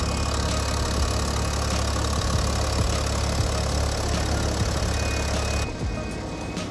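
A 2020 BMW 730Ld xDrive M Sport diesel engine idles with the bonnet open, a steady, loud, close rumble with a fine mechanical clatter that drops slightly in level near the end.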